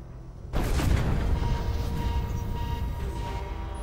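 A weapon strike slamming into a ship in the Star Ocean video game: a sudden heavy boom that bursts in half a second into the clip, then a long rumbling roar and layered electronic tones that slowly fade, no talk.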